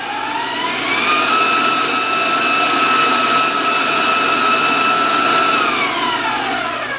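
An electric mixer beats batter for a Danish layer cake at high speed, its loud whine rising at the start, holding steady and dropping away at the end.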